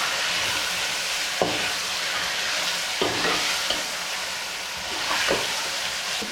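Chicken frying in masala for biryani, a steady loud sizzle with occasional scrapes of stirring against the pan, no one talking.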